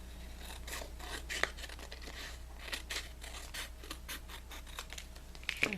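Scissors cut through paper strips for a mini album, giving faint, close snips and soft scraping rustles spread across the clip, with a couple of sharper clicks, in a quiet room.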